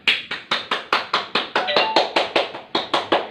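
A class of young elementary pupils claps hands together in unison, about fifteen sharp, evenly spaced claps in a steady rhythm, fairly close and loud, with no talking over them.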